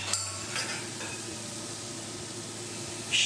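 Drained courgettes sizzle softly in a pan with vegetables and pesto, a low, steady hiss punctuated by a few light clinks of tongs or utensils.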